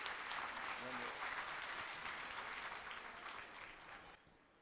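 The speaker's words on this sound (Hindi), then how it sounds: "इनके लिए आप लोग जरा एक बार फिर से जोरदार तालियां बजाइए" Audience at a Prajapati Samaj annual gathering in Mumbai claps loudly and continuously, a broad wash of applause that gradually thins out and fades at the end.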